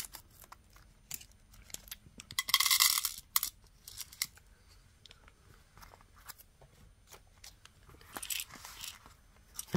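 Scissors snip and cut open plastic packaging holding tiny pressed glass donut beads, a scatter of close clicks and crinkles with a couple of louder crackling rustles of plastic.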